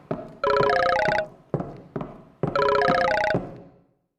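A telephone bell rings in two long trilling bursts separated by a couple of short knocks, close and clear against an otherwise quiet room.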